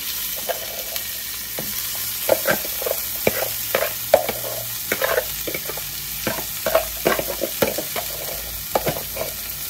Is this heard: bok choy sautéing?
yes